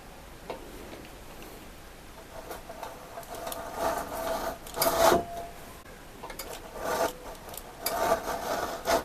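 A knife cuts through a bar of homemade vetiver oil soap, giving soft close rasping scrapes and light ticks in short bursts, fairly quiet, with no talking.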